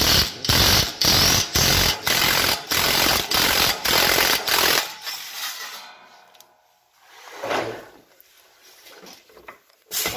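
A drill with a large socket and slug buster bores a big hole through a sheet of iron, giving loud, rhythmic pulsing grinding bursts for several seconds before stopping, followed by quieter scattered handling sounds.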